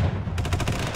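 Rapid automatic gunfire in a D-Day combat video game, a fast steady stream of close, loud shots filling the whole second.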